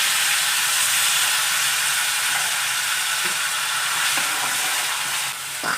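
Finely chopped onion and tomato sizzling in oil and butter in a pan for pav bhaji, a loud, steady hiss that continues unbroken with a few soft stirring clicks near the end.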